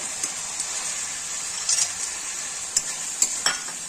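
Dry soybeans fry in a spiced masala in a pan, giving a steady faint sizzle with a few sharp scraping stirs and no voices.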